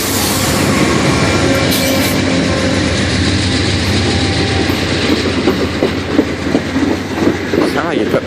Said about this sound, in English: we got Amtrak 19 arriving